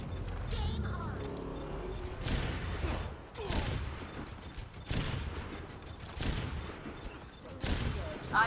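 Overwatch match on the Anubis map with repeated gunfire bursts, sharp shots clustered in volleys every second or so, heard over game effects with voices speaking at times.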